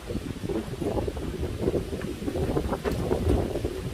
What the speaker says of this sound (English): That's the wind picking up.